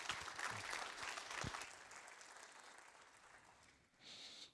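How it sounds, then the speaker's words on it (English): Audience applause at a network operators' conference talk, a quiet, distant patter of clapping from a room that tapers off and briefly picks up again near the end. "So please give a round of applause."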